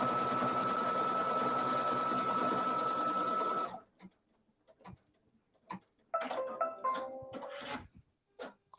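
A sewing machine stitches along a quilt outline with a fast, steady mechanical whir for a few seconds, then stops, leaving scattered soft clicks and fabric handling.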